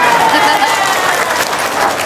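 An audience claps together at a gathering, producing a dense, even rush of applause that fills the whole moment, with voices mixed in beneath it.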